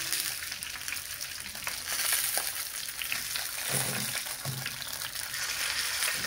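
Eggplants and peppers frying in a pan, a steady broadband sizzle crackling throughout with a few soft clicks and clatters of stirring or turning, close and moderately loud with no talk.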